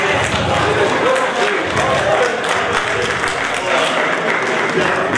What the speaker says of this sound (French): Et moi, je vous demande, comme je vous demandais encore, d'applaudir Sylvain Koulibaly.